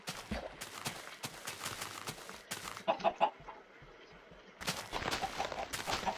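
Chickens cluck in Minecraft, quiet and scattered, among sharp rapid clicks and taps.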